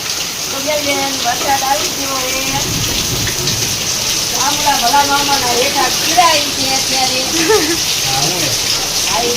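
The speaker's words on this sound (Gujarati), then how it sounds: "પવન એવો છે ને વરસાદ એવો છે" Steady heavy rain pours down throughout with strong wind, a loud constant hiss and people talking over it.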